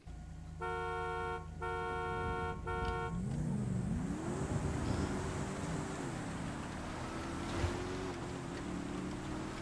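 Three short car horn honks sound in a video game street race, followed by engine noise that revs and swells as the cars pull away.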